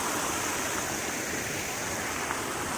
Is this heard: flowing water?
yes